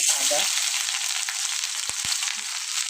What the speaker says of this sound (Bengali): আদা দিয়ে দিলাম